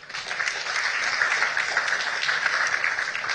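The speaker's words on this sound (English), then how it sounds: "That deserves a round of applause." An audience at an entrepreneurship program event breaks into applause, a sustained, even hiss of many hands clapping at a moderate distance, with no gaps or voices rising above it.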